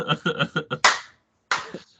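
Five quick hand claps in a rough rhythm are followed by two louder, more spaced claps, close and dry with short silent gaps between them.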